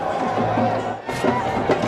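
A cricket stadium crowd at an India versus New Zealand one-day international makes a steady, broad murmur and roar, with a voice talking over it.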